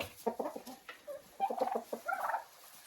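A rooster in a coop shared with turkeys gives several loud, close bursts of clucking and crowing calls in irregular groups, with brief pauses between them.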